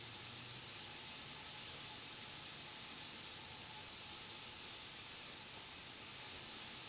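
Spray paint or an airbrush laying down fine detail on a hummingbird painting: a steady, even hiss runs unbroken throughout, fairly faint, with no talk over it.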